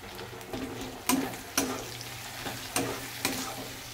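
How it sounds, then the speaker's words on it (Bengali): Chicken masala cooking in a pan on high flame as water is added, a soft steady sizzle broken by a few sharp stirring clanks, close and fairly quiet. "এটা একটু ধুয়ে জল দিয়ে দেব এতে।"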